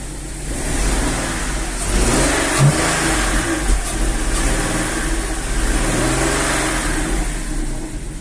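Infiniti FX35 engine with a warm engine after cylinder head repair, revving steadily and loudly up close, a sustained mid-pitched roar with slight swells, no one speaking.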